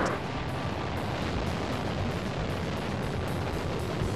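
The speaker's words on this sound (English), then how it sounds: "We have ignition and liftoff of a Delta II rocket" Delta II rocket carrying the Deep Impact spacecraft roars at ignition and liftoff, a loud, steady broadband rumble with crackling texture that holds throughout without pause.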